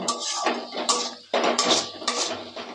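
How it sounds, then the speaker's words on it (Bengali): Ground chilli, pepper, cumin, coriander powder and sugar fry in a pan while a metal utensil clinks and scrapes against it in repeated close, sharp knocks, with no voices. "এবার আমি এগুলোকে আরেকটু ভেজে নেব"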